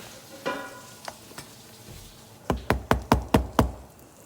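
Floured food frying in a skillet: a faint sizzle under a few scattered knocks, then a quick run of six sharp knocks near the end, with no talking.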